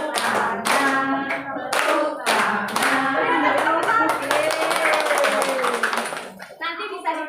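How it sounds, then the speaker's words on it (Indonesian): Children clap their hands during a movement game with a teacher, bursts of sharp claps coming in uneven groups over excited voices and chatter. "tepuk tangan"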